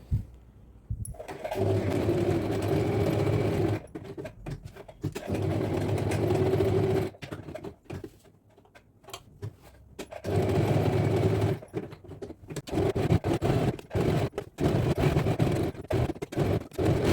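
A sewing machine hems a kurti in repeated runs of rapid mechanical stitching, with short pauses between bursts and a steady motor whir under the needle's clatter.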